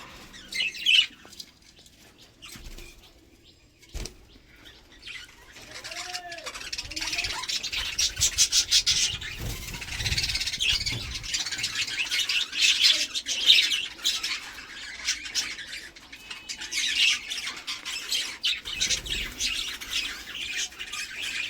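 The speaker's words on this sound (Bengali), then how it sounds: "দেখতেই পাচ্ছেন বাচ্চা বাচ্চা পাখিগুলো" A flock of young and adult budgerigars gives scattered sharp squawks and chirps, near and fairly loud, over a soft continuous chatter of bird calls.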